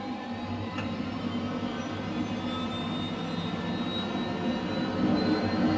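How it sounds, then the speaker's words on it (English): An H135 helicopter's engine 1 spools up in Microsoft Flight Simulator, a steady turbine whine with rising tonal lines that slowly builds in loudness, no voices. "So engine 1's spooling up"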